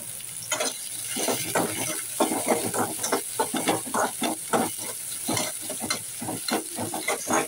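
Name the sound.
onions frying in oil with fennel seeds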